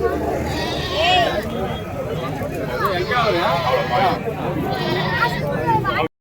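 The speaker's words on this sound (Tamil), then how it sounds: "எல்லாமே பார்த்தீங்கன்னா செம்மறி கிடாங்க தான்" Sheep, mostly rams, bleat repeatedly at a busy Wednesday livestock market held ahead of Bakrid, several calls close by while people talk over them and a crowd murmurs throughout.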